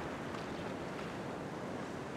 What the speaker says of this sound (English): See, I'm just watching this wave come in now.